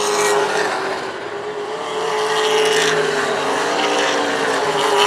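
Race cars in a WESCAR 100 event at Hythe Motor Speedway, with engines droning steadily and rising as they pass, a continuous loud motor hum with no talk.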